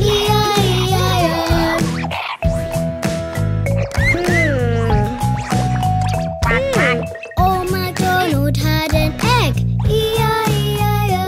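A sung voice imitates a pig's oinks in the nursery rhyme Old MacDonald, sounding loud and close over bright, bouncy children's music.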